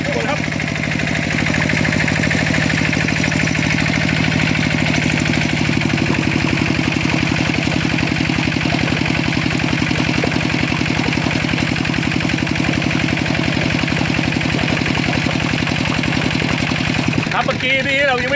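Walking tractor engine idling at low throttle while driving an 8-inch, 16-foot pipe water pump, a loud steady rapid chugging throughout with a voice talking over it.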